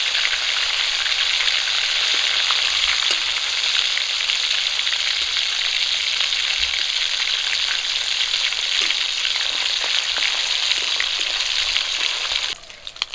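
Sole fish pieces frying in hot oil in a kadai, a steady close, loud sizzle with crackling spits running unbroken for about twelve seconds before dropping off abruptly at the end.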